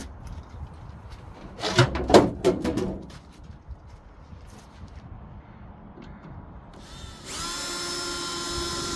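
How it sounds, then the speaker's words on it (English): A short burst of power drilling into aluminum whines and grinds near the start, followed by quieter workshop clatter and a steady hiss at the end. "It's aluminum, so it doesn't drill too bad."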